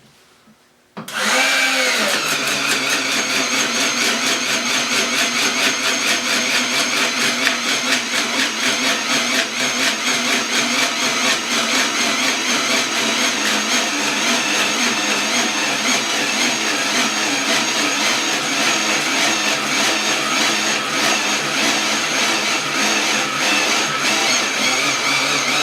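An old corded drill rated at 375 RPM runs steadily and loud for about 25 seconds after a brief quiet start, a continuous motor whine with no talking over it.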